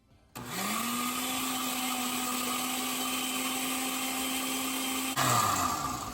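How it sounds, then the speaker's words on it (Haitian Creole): An electric blender whirs steadily at high speed for about five seconds while blending a Haitian marinade with Maggi and water, then slows abruptly and cuts out; no voices. "Je vais blender."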